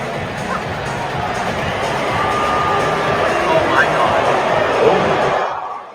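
An arena crowd at a Kings basketball game cheering loudly while the Kings lead by double digits, a dense roar of voices and shouts that swells slightly and then fades at the end.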